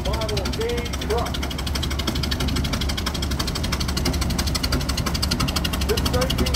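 A 1928 Ford Model K truck, cut down and fitted with a 1930 Model A engine and transmission, runs steadily with a rapid, even mechanical chatter and rumble while someone talks over it.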